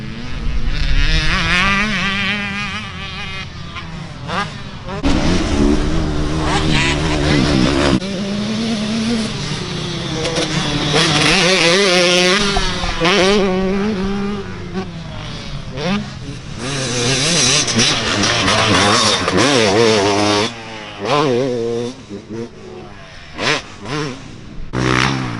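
KTM motocross dirt bike on a dirt track, its engine revving and accelerating in rising and falling waves, loud and close, with voices talking in places.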